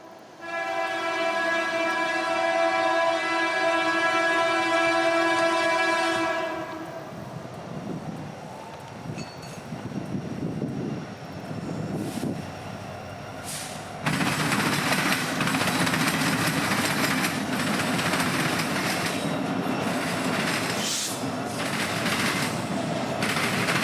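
A Norfolk Southern freight train sounds its loud, sustained horn, then rumbling locomotives and clattering cars roll past close by in North Florida, steady and heavy.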